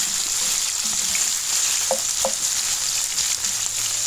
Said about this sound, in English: So after she starts mixing it while frying it.